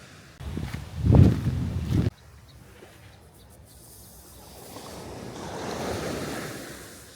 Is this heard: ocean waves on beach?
yes